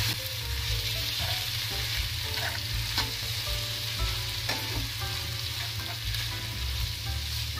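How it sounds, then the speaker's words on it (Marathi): Grated raw mango fries in ghee over a medium gas flame, a loud, steady close sizzle with occasional stirring scrapes running throughout. "तुपामध्ये 5 मिनिटं आपण ही कैरी छान अशी परतून घेणार आहोत, गॅसच्या मीडियम फ्लेमवरती"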